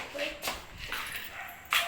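Short dog barks and yips come from a stray dog pack at a family picnic, mixed in with people talking nearby.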